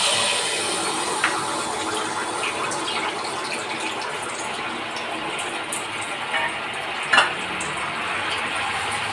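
Pitha batter frying in hot oil for a Poush Parbon festival, a steady dense sizzle and crackle throughout with small pops and a brief louder spit near the end, no talking.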